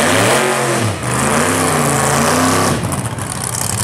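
A 1991 Ford Mustang drag car revs loud and close at a street car takeover drag strip, its engine pitch rising and falling through a sustained roar before a harsher blast near the end.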